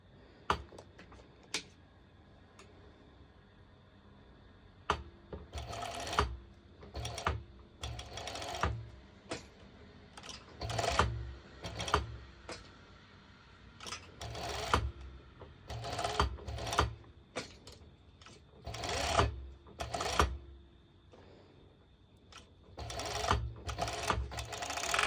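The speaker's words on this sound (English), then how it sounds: "I recommend you to do another straight stitch over with your normal sew machine" A home sewing machine runs a straight stitch over fabric in repeated short bursts of rapid mechanical whirring, separated by quiet pauses, close and clear.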